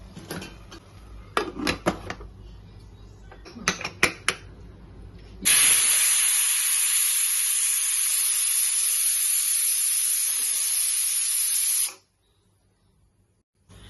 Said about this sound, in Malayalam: സ്റ്റീം വന്നതിന് ശേഷം അടുപ്പ് ഓഫ് ചെയ്തു